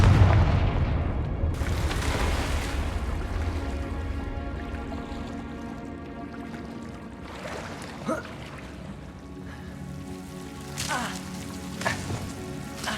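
A Confringo fire spell explodes in the Hogwarts Legacy video game with a loud opening boom that fades into a rumbling tail, followed by a few smaller cracks and impacts.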